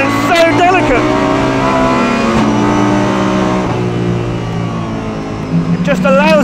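A Lamborghini Huracan GT3 race car driven flat out on track, its engine screaming through rising gear pulls with sharp upshifts, loud and close, while a voice talks over the roar.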